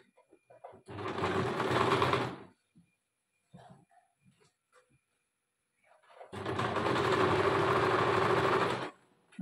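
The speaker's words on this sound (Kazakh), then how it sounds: "Міне, енді қазір тігіп шығамыз жерді." A sewing machine stitches a garment in two bursts of about two and three seconds, close and humming, separated by quiet handling sounds and small clicks.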